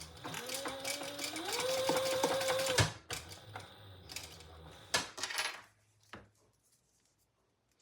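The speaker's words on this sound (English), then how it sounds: "do some chain stitching" A sewing machine chain stitching a shoulder bag, an up-close whirring run that rises in pitch and then stops, followed by a few scattered mechanical clunks and knocks fading into quiet.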